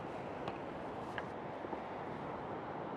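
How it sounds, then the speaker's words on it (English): Steady, roaring south wind on a beach fills the clip, loud and constant, with a few faint clicks beneath it. "It's just too windy."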